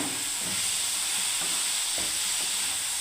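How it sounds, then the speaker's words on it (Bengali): Raw banana, onion and tomato frying in a pan with poppy seed paste, a steady hiss of sizzling oil broken by a few soft scraping stirs of a spatula, close and continuous with no talking. "আবার কাঁচা কলার পোস্তটা, পেঁয়াজ আর কাঁচা কলা টমেটোটাকে বন্ধুরা আবার নেড়ে দিচ্ছি ভালোভাবে।"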